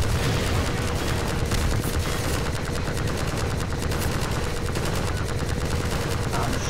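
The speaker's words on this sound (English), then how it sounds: "Die faster, I'm shooting at you." Continuous rapid gunfire from the video game Half-Life 2, dense, loud and unbroken, with rattling automatic bursts filling the whole stretch.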